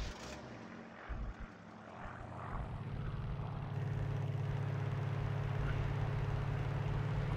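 A 1965 Mini Cooper S engine starting in the Farming Simulator 19 video game, quiet clicks followed by the engine catching and settling into a steady, loud idle drone.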